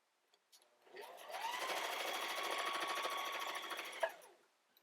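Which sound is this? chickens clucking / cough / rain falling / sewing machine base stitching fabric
sewing machine base stitching fabric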